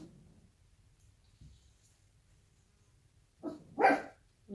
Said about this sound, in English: Why is it you guys always want to bark when I'm doing a video, hey?